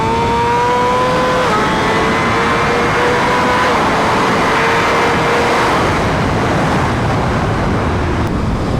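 A BMW M1000RR motorcycle pushed to top speed, with a loud, steady wind-blasted roar and a high engine whine rising through the gears, continuous and close throughout.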